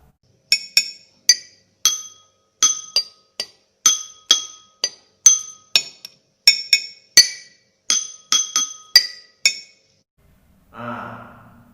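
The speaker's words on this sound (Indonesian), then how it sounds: "bunyi gelas" A glass struck over and over, giving about twenty bright, ringing clinks in an uneven rhythm, close and clear. A short breathy sound follows at the end.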